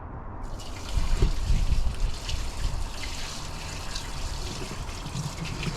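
Water pours into the bilge of a Quicksilver 620 boat, starting abruptly as a loud gushing splash that settles into a steady, close trickling fill.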